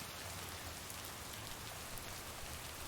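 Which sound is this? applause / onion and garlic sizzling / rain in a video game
rain in a video game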